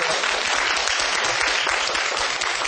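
Studio audience applauding Dr. Cheon Kyu-seung after his lecture on a Korean TV program: loud, dense, steady clapping that continues throughout.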